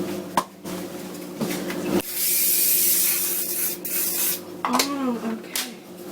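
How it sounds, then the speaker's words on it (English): Oil spray misted over a vegetarian lasagne bake in a home kitchen: a long, steady hiss lasting about three seconds, bracketed by a few shorter spurts and clunks of handling, with brief speech-like sounds nearby. "Now I'm actually gonna spray it with the oil."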